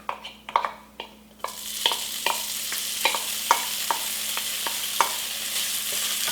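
Garlic sizzling in hot oil over medium heat, a steady frying hiss punctuated by regular scraping stirs, close and fairly quiet with no talking.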